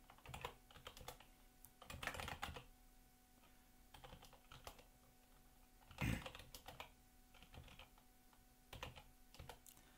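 Typing on a computer keyboard while entering Mongolian text, with irregular bursts of clicky keystrokes and a few louder thumps, fairly quiet and close with no voices.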